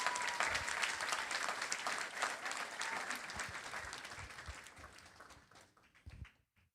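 A graduation audience at a senior class ceremony breaks into dense, sustained applause that gradually thins and fades away, ending with a few scattered last claps.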